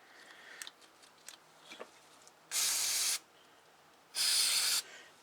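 Carburetor cleaner sprays in two sharp, loud bursts of hissing aerosol into the carburetor of a Tecumseh go-kart engine, with faint clicks and handling noises before them.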